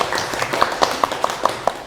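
Audience members at a university certification lecture clap for a presenter in a steady, evenly spaced rhythm, fairly close and moderately loud over a low room murmur.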